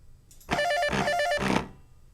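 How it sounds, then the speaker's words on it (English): A short, bright electronic ringtone from a Steam Controller plays a quick repeated melodic ping pattern for about a second, then stops, with quiet background around it. "You can ping the controller in case you lose it somewhere. It plays a nice ringtone."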